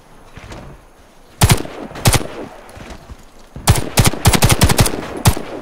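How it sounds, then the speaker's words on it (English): Aimed-mode gunfire in the video game Warface: two sharp single shots, then a rapid cluster of loud, punchy reports in quick succession, close and dominant with no talking. "Now it's time to try a more precise way of shooting."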